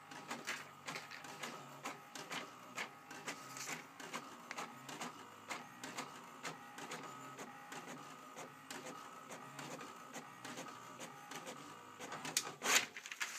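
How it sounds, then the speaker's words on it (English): Home printer feeding freezer paper through, a rhythmic series of mechanical clicks and whirring pulses repeating roughly every half second, quiet and close, with a few sharper clacks near the end. "It'll go right through your printer."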